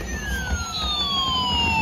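A toy ambulance siren wails continuously, its electronic tone sliding steadily downward, loud and close with no talking.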